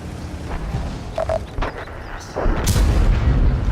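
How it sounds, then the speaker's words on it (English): Soviet IS heavy tank in the World of Tanks video game firing its cannon, a loud deep boom followed by a rumbling roar amid game sounds. "So I'm going to fire at those guys in the middle."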